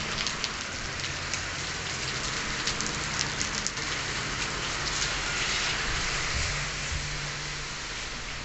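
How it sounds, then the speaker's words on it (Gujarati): Rain falls steadily on outdoor surfaces, a constant patter and hiss of drops at an even, moderate loudness all the way through. "અત્યારે વરસાદ ચાલુ છે."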